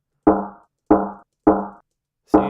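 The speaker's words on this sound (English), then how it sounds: "See, it sounds much more lo-fi," Lo-fi synth sample pitched up and then back down, four short tonal hits with quick attack and decay, evenly spaced at close range with no voices.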